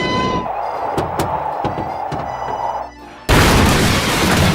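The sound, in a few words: massive vehicle explosion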